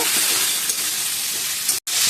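Cauliflower florets sizzle steadily in hot oil in a pan, a dense, continuous hiss near and loud with light stirring clatter, briefly cutting out before resuming, for a Bengali fish curry.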